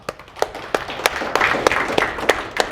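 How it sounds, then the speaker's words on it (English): Applause from an event crowd for the volunteers, sponsors and organizers, with claps gathering into a steady, moderately loud patter and a few sharp individual claps standing out, and no talk over it. "join me in big round of applause for volunteers, sponsors, and organizers"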